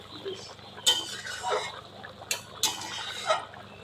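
Lid placed over a pot of rui fish curry on the stove, with several sharp metallic clinks and clatters spread across a few seconds over a quiet kitchen background.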